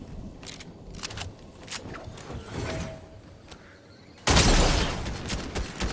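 Scattered gunshots in the video game Fortnite, sharp cracks spaced out across the clip, then a louder dense burst near the end; faint and distant overall.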